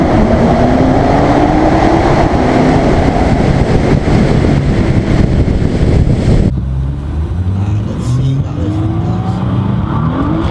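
A 2014 Nissan GT-R driving through a tunnel, a loud close engine roar with rising and falling tones through gear changes, the sound shifting abruptly partway as the surroundings change.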